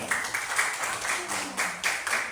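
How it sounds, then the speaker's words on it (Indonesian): A classroom of students clapping for a classmate named Putri: a continuous patter of hands clapping with a loose pulsing rhythm, moderately loud and close, with no speech over it. "Tepuk tangan Putri"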